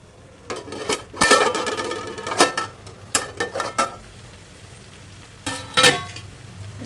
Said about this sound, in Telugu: దీన్ని దాదాపు ఇప్పుడు మనం 10 మినిట్స్ వరకు అయితే ఇలాగే మధ్యన కలుపుతూ ఫ్రై చేసుకుంటాం